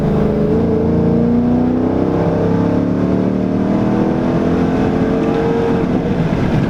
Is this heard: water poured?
no